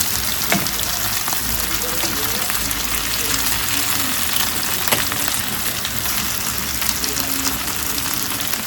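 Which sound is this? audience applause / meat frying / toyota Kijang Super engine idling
meat frying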